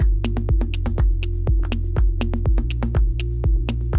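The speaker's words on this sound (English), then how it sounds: "I would like to go like with a more like real clap here" Clap drum one-shot samples cycled through over a steady looping electronic beat with a thumping kick, the sharp claps landing in a tight, regular rhythm, loud and close with no talking.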